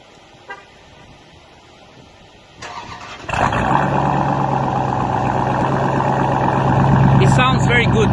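A 2018 Dodge Durango SRT with its mid muffler removed fires up after a brief quiet stretch, then settles into a loud, deep, rumbling idle heard through open windows, swelling slightly near the end.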